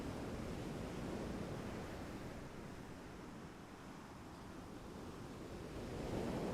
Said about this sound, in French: le corps oscille et danse sur ce son de vagues